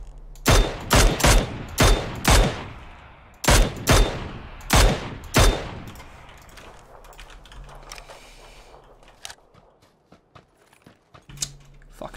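Mini14 rifle fire in PUBG: a rapid series of loud, sharp shots in two bursts over the first five seconds, then quieter scattered distant gunfire and small clicks across the rest of the stretch.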